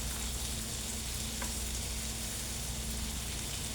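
White Bombay onions sautéing in a hot pan, a soft, steady sizzle and crackle heard up close and quite faint, with no talk.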